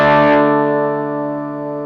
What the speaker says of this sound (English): So that overdriven sound was purely because we're driving the first stage.